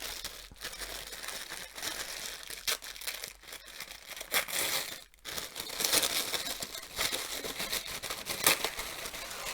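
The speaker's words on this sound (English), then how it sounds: "I'm going to snip into this because of time." A gift package is snipped open and unwrapped by hand, with continuous close crinkling and rustling of paper and wrapping, loud bursts of crumpling and a brief pause midway.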